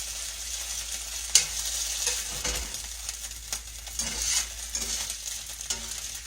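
Chicken livers fry steadily in a pan over medium-low heat, a continuous close sizzle and crackle with occasional stirring scrapes and no voices.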